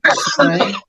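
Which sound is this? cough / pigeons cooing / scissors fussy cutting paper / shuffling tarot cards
cough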